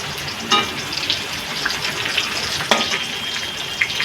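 Food fries in a pan with a steady, close crackling sizzle, broken by a few sharp pops and light clicks as the pieces are turned.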